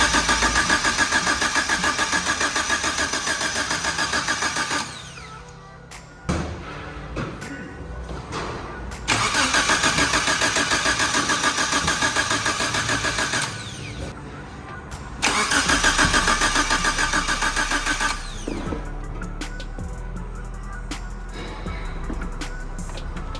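A Suzuki Samurai fitted with a swapped 1.6L 16V engine cranks and fires up several times, each loud start settling into a rough mid-pitched idle before dropping away, close to the vehicle.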